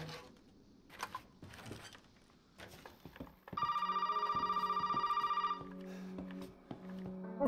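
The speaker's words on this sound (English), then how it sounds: "We didn't answer the last phone. Let's do it this time." A telephone rings in Resident Evil 7, a loud, steady electronic trill that lasts about two seconds inside a quiet, creaky interior, followed by faint tonal game sounds.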